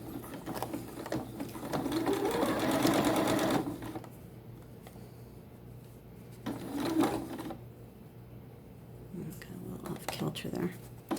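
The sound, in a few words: sewing machine sewing stretched leg seams of T-shirt shorts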